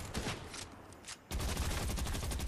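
Gunfire in Fortnite, a game setting: sustained rapid bursts of shots that fill the sound, broken by a short lull, then resume loud and dense, with no talking.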